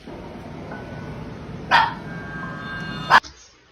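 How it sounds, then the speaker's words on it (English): Two sharp dog barks, the first alone and the second a few seconds later, over a steady low background hum. "My dog just started fucking barking for no fucking reason."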